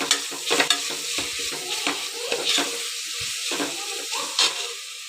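Crushed garlic and green chilli paste frying in a pressure cooker over a medium gas flame, stirred with a spoon: close, continuous sizzle broken by repeated scraping strokes against the pot.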